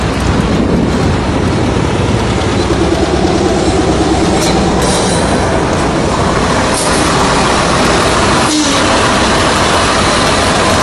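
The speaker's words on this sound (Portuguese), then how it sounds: "Estação de trem." A train moves through a railway station in Americana, Brazil, its loud, steady rumble and wheel clatter running continuously and close throughout.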